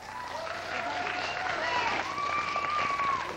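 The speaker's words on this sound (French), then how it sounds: "Et on applaudit nos 4 équipes" Audience applause for four teams at a 1997 school game show, a soft, steady patter of clapping heard from some distance, with tonal sounds and faint voices over it.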